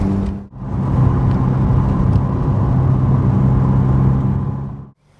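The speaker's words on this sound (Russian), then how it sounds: "Машина с трудом добирается сюда." A car engine labours up a steep asphalt mountain road in Dagestan, giving a loud, steady close rumble with no talk. It dips briefly near the start and cuts off near the end.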